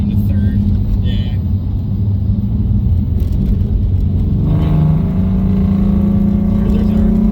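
Ford Mustang S197 with a V6 turbo kit accelerating hard in second gear, a loud close rumbling engine that rises in pitch near the end as it pulls, with talk underneath.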